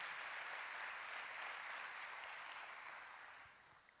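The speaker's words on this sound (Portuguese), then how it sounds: "Você pode dar um aplauso ao Senhor?" Church congregation applauding at a Sunday family service in Londrina, a steady wash of clapping at moderate distance that holds evenly, then thins and fades out near the end.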